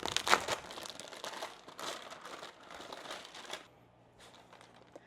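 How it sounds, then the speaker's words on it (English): Parchment paper being crumpled by hand while stuffing mozzarella meatballs, a close, loud crinkling in quick bursts for about three and a half seconds, then a few faint rustles. "I'm gonna crumple up my parchment paper."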